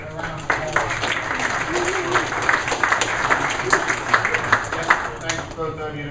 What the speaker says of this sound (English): let's give Nathan and Jay a round of applause.